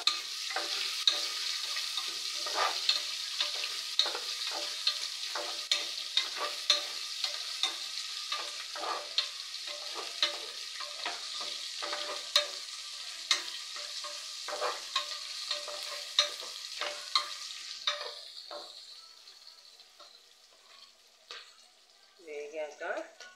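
Onions fry and sizzle steadily in a pan with curry leaves, punctuated by frequent sharp scrapes and clicks of a stirring spoon throughout, quieting near the end before a few final stirs.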